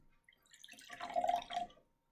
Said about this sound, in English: I'm going to pour a little bit in this glass